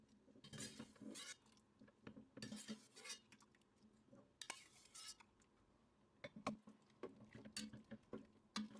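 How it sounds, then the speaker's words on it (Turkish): Cabbage and beans are stirred in a pot, with a quiet series of utensil scrapes and clinks against the pot in irregular bursts, close and fairly soft with no speech. "Karıştırıyorum."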